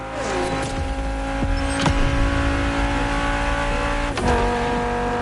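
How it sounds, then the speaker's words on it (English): A car engine revs and holds a steady, droning note on an island runway set up for drag racing in a video game, with sharper bursts of acceleration rising over a constant mechanical hum. "Warm up your engine and don't blink."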